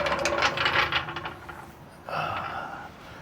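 A ratchet with a 5/8 socket works on C3 Corvette rear suspension during trailing arm removal, giving a close run of quick clicking strokes, a short pause, then another burst of clicks.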